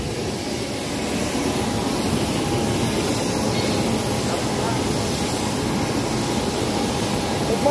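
A steady, loud engine roar fills the whole stretch, a continuous low rumble of a Lion Air airliner's engines heard from inside the cabin.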